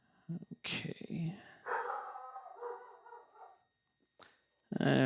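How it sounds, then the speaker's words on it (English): A pet dog barks indoors in a home, with several sharp bursts separated by pauses, fairly close and loud, and a person speaks quietly between them. "I guess you guys can probably tell that I have a dog."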